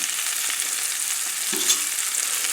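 Shrimp for shrimp Newburg sizzle steadily in a frying pan as they are turned, the continuous hiss broken by a brief soft clatter midway through.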